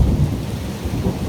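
A strong thunderstorm with pea-size hail, heavy rain pouring steadily while low thunder rumbles continuously close by, a loud and unbroken wash of storm noise with no voices.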